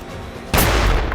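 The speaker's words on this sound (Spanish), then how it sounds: "La primera explosión ha destruido la botella." A sudden loud blast bursts out of a steady background rush, a single sharp explosion of a hydrogen gas bottle outdoors in an open area, with a broad roaring tail.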